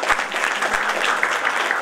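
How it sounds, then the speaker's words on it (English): An audience at an inspirational speech competition applauds for Dr. Polat: a dense, steady wash of many hands clapping at even loudness throughout, with no voices standing out. "Can we have a round of applause for Dr. Polat?"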